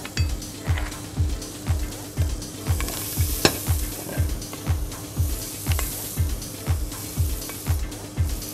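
Butter melting in a pan gives a close, steady sizzle, with rhythmic scraping strokes of stirring repeating about twice a second throughout.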